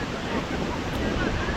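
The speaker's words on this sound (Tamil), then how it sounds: "எவ்வளோ ஃபோர்ஸாக தண்ணி வருது." Water rushes forcefully at the Thaiyur mini waterfall, a steady, dense roar of spray and churning flow heard up close, unbroken for the whole moment.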